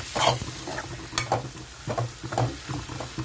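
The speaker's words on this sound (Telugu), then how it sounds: "కలిపేసుకుందాం బాగానే." A spoon repeatedly stirs chili powder into a sizzling fenugreek tamarind curry, giving rhythmic scraping strokes over a steady fry, close and moderately loud.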